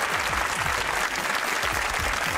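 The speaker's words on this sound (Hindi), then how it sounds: "तालियां होनी चाहिए" Studio audience applause on a Pakistani TV comedy show, dense steady clapping throughout at moderate level with no talk over it.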